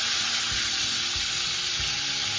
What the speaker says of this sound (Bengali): এবার পটলগুলোকে উল্টে দিচ্ছি,